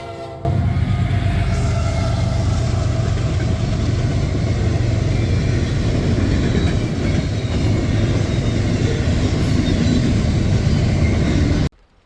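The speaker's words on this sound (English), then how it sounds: "CSX I-104 comes racing through with a nice SD70 Mac leading the train" CSX I-104, a freight train led by an SD70 Mac locomotive, races through Westfield with a loud, steady rumble of engine and rolling wagons, its horn sounding, close and unbroken until it cuts off abruptly.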